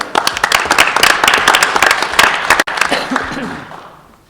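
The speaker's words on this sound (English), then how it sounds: "Clap it up for our cross-country program." Room of people clapping for a cross-country team at a school board meeting, dense close applause with some louder individual claps, tapering off over the last second or so.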